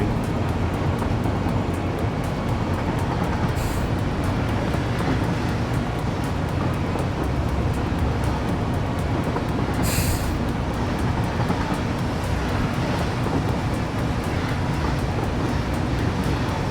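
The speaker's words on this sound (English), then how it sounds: "I'll just ride a train." Train riding on rails in the video game Satisfactory, a loud continuous rumble of wheels on track with a steady rhythmic clatter, unbroken and close, no talking.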